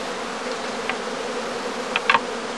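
Honeybees emerging and swarming from a straw skep produce a continuous close, even hum, with a few louder buzzing passes near the end.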